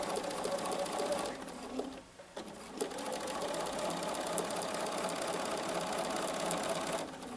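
A sewing machine stitches quilt fabric in a fast, steady mechanical whir with rhythmic needle chatter, close and loud, briefly dipping before running on continuously.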